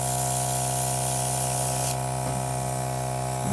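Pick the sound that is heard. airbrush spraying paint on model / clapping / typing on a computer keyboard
airbrush spraying paint on model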